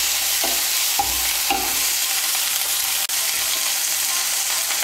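Ginger paste being stirred in a hot pan for a vegetarian soybean curry, a steady bright sizzle with a few soft scraping strokes of the spoon, close and alone with no talking.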